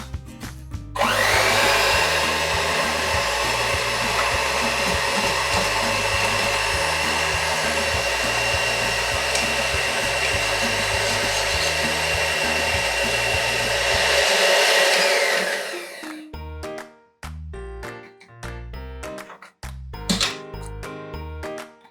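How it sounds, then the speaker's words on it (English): An electric mixer or blender whirring loudly and steadily for about fifteen seconds while churning ice cream ingredients at home, then cutting off and giving way to clinks and knocks of utensils against containers. "We got to mix up and make sure everything's being mixed in properly."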